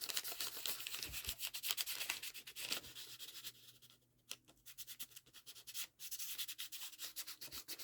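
Chalk being rubbed onto a junk journal page in quick, close, quiet scratchy strokes, with short pauses between bursts of rubbing.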